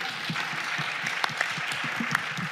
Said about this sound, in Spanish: Yo creo que se merecen ustedes un aplauso por estar aquí presentes a esta hora.